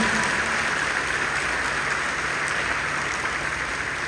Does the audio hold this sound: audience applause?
yes